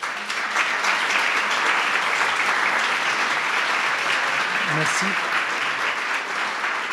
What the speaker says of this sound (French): je pense qu'on peut les applaudir pour cela.